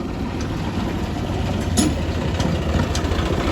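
A tractor with a trolley idles nearby, its low engine rumble steady and loud throughout with a slight rise near the middle and no speech.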